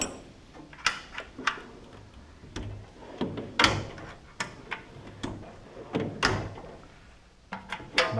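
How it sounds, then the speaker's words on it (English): Drawers of a Harbor Freight five-drawer tool cart slide open and shut repeatedly, giving sharp metallic clacks and rolling rattles in an irregular series of close, loud knocks, with no talking. "Opens up really nice, and all the drawers work well."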